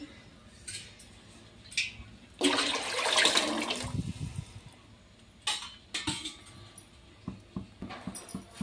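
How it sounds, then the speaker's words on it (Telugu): A brief rush of water pours into a cooking pot, followed by scattered clinks and knocks of pots and utensils nearby. "దీంట్లో మనం వాటర్ యాడ్ చేసుకోవాలి"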